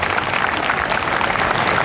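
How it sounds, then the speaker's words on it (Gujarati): An audience at an education motivation talk applauding, dense steady clapping from many hands throughout, fairly loud and without a break. "બધા માટે જોરદાર તાળીઓ"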